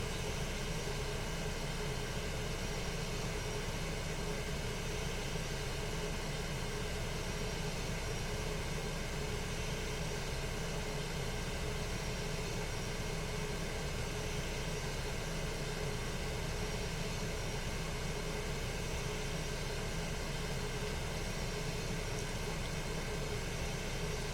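Aircraft bypass engines droning in flight, a steady broadband roar that holds unchanged and loud throughout.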